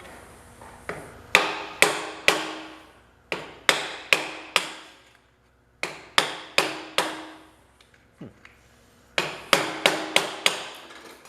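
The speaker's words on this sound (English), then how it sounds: "All we need to do now is just hammer these off" A hammer strikes metal parts on a seized 1978 John Deere 208 engine, sharp ringing blows landing in quick bursts of three to five with short pauses between groups, close and loud.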